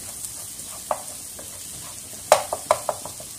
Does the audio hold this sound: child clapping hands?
no